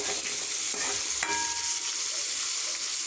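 Shallots, garlic and tamarind sauté in a hot pan for a Tamil-style onion chutney, giving a steady close hiss of frying with a few soft scrapes of stirring and no voices.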